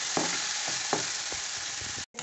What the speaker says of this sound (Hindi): और हम अच्छे से भूनेंगे, ज़्यादा भी इसे हमने ब्राउन नहीं करना, सिर्फ हल्का ब्राउन होने तक इसे भूनना है हमने।